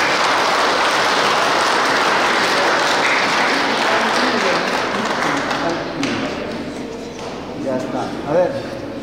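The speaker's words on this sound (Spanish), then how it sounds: "Un aplauso para los hermanos" Wedding guests clap for the couple after their vows at a ceremony in San Lucas, Vinchos, loud sustained clapping that gradually thins out, with voices talking over the fading applause.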